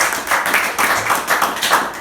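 A church congregation clapping together during a sermon, loud and close, with rhythmic pulses of clapping roughly every quarter second over two seconds.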